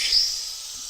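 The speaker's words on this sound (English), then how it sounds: "Get it over our glass here and open the steam up." A brief, bright hiss of steam from a Gaggia Carezza espresso machine wand with milk tube attached, close and fairly loud, lasting under a second.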